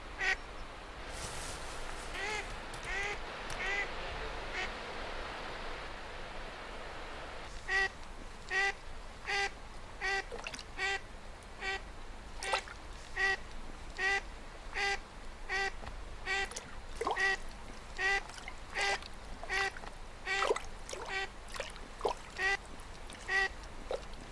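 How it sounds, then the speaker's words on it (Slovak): A mallard duck quacks repeatedly at a high Tatra mountain lake, first a few scattered calls over a soft wash of water or wind, then a long run of loud, evenly spaced quacks. "Patrí k nim aj kačica divá, ktorá tu vysoko v horách dokonca zahniezdila a teraz vychováva potomstvo."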